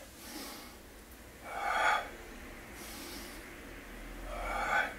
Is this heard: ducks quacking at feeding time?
no